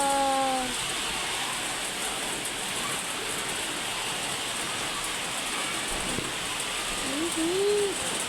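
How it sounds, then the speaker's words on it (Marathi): Dense, steady heavy rain in Kalyan hisses continuously at a loud level, with a couple of brief bird-like chirps at the start and near the end. "आता जोरात पाऊस आला"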